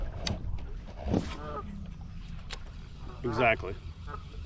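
Geese give a few scattered honks nearby on a river, over low boat engine noise, with someone speaking briefly.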